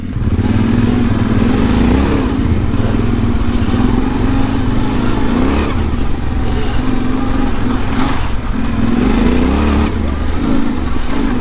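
A Yamaha Tenere motorcycle on Mitas Enduro Trail XT tyres churns through slippery mud near a dumped van, its engine droning loud and close with steady revving that swells and dips throughout, no talking over it.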